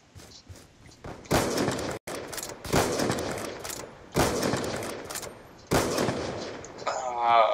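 Rapid bursts of gunfire in the video game Black Ops 2, several loud volleys separated by brief pauses, each a dense crackling barrage lasting about a second, with a short voice near the end.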